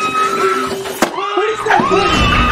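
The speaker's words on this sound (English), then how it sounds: "Yo, I hear screaming, dude." A girl screaming in a high, sustained, wavering cry heard over background talk, with a sharp knock partway through.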